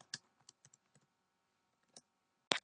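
Sparse keystrokes on a computer keyboard, a handful of sharp, close clicks at irregular intervals, with a louder final key press after a short pause.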